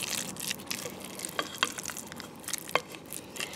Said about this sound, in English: I'm going to continue to stir this in, mixing it up for a couple of minutes.